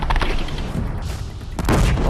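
Bombs go off in the Horizon Zero Dawn video game, a dense burst of blasts and crackling booms in quick succession, loud and close, with a heavier cluster of explosions near the end.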